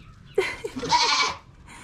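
Newborn goat kids bleat in a short burst of high, wavering cries close by on a farm during kidding, with quiet surroundings before and after.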